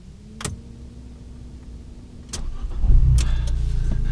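An Abarth 695 Biposto catches with a sharp crank and settles into a firm, close idle after a few clicks and thumps of the cabin controls.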